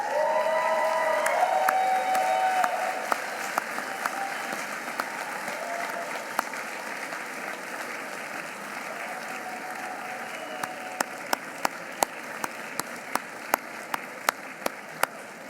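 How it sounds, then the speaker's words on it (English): Sustained applause from a large audience of families and friends at the University of Vermont medical school graduation, dense and steady at first, then thinning into scattered individual claps toward the end. "give them a round of applause to thank them once again for their love and support"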